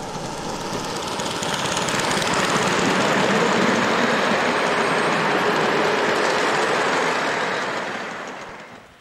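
Scale model railway rolling stock runs along the track with a continuous rumbling clatter that swells in, holds steady and loud, then fades as it passes.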